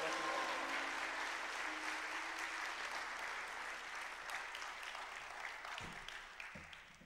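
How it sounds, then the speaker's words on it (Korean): Congregation at a mission revival service applauding to welcome the pastor, a fairly faint, continuous patter of many hands that gradually tapers off, with a few low thumps near the end. "바트란 목사님 나오실 때 할렐루야 함께 영광 돌리고 환영하겠습니다. 할렐루야. 박수."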